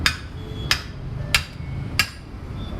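A hammer strikes a vehicle tyre four times at an even, steady pace, each blow a loud, sharp metallic crack, while the tyre is being removed by hand without a machine.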